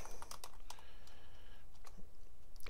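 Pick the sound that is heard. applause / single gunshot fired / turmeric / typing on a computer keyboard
typing on a computer keyboard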